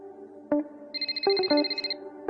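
A mobile phone ringtone plays as a short electronic melody of bright, repeating tones, fairly close and clear, with no talk over it.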